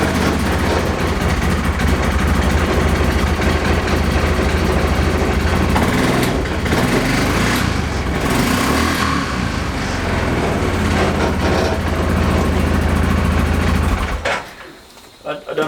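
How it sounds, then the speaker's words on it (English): A used left-hand-drive Cub Cadet Challenger UTV idles loudly and close by, its CVT giving a continuous whirring rumble with uneven clunky texture, then the engine sound drops away abruptly near the end. "I don't know if that whirring and clunking will come up on the camera, but if it does, that's just the CVT"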